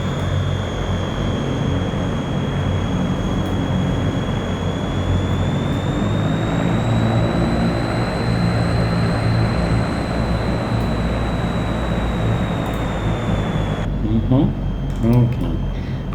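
Engines of an AzurPoly C-160 transport aircraft in the MSFS 2024 flight simulator run up to full power, a loud continuous turbine drone with a rising whine that holds steady throughout, heard from outside the plane.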